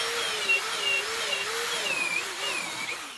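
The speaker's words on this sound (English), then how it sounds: "I am using a corded drill to drill the holes." A corded power drill whines steadily at close range, boring holes in a wooden V-bottom skiff, its pitch wavering slightly, with a high metallic squeal running over the motor.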